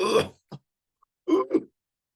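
A person imitates a cough with a few short, breathy throat bursts separated by brief pauses, close and alone.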